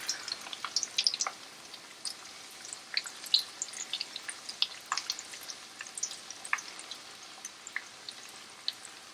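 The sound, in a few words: panko-coated shrimp frying in oil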